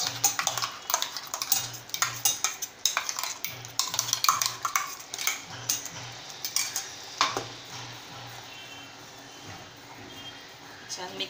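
A ground spice paste is stirred into a pot, with repeated clinks and scrapes of a spoon against the metal in an irregular rhythm, close by, under a background with a periodic electronic beep.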